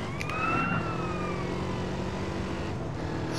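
Police siren in the GTA San Andreas video game on PS2, a wailing tone sweeping up and falling slowly over engine rumble, moderately loud and without speech.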